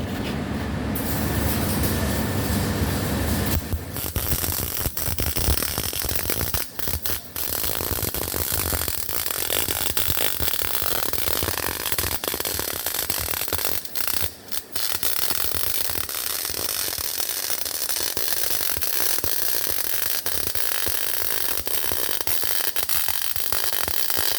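A 3F downhill MIG weld bead being run, giving a loud, steady crackling hiss that continues almost without a break for the whole stretch, with a few brief dropouts along the way.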